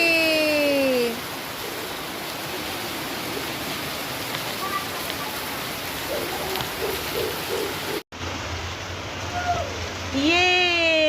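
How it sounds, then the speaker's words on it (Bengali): Steady rain pours down during a storm in Kolkata, a dense continuous hiss running throughout, with a short break near the end and some faint voices in the background. "আজকে বৃষ্টি নামলো অবশেষে।"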